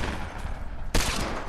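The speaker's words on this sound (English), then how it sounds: "I sniped him." A single sharp sniper rifle shot cracks out in a Fortnite squad match, loud and sudden partway through, over constant in-game background noise.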